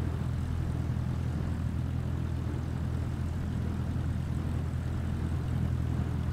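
Propeller airplanes in a busy multiplayer flight simulator game drone steadily and loudly, a dense, continuous low engine hum with no gaps and no talking.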